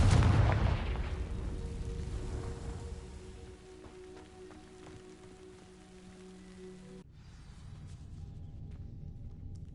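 Confringo fire spell in Hogwarts Legacy bursts with a loud crackling blast at the start, then a fading rumble and rainy crackle that lingers for several seconds.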